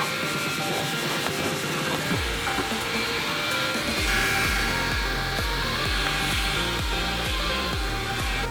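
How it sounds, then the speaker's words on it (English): A steady, loud motorized whine of a vacuum cleaner running continuously inside a boat, with rhythmic scraping bursts as the nozzle is pushed back and forth. "I'm gonna vacuum everything"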